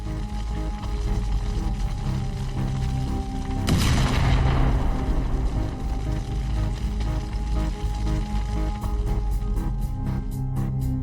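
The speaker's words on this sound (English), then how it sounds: "Ukrainian artillery is currently firing at 3 Russian armored personnel carriers with Russian troops" Artillery fire: a single heavy boom bursts out near the middle, rolling off into a long rumbling tail over a steady low background hum, with a string of faint rapid clicks near the end.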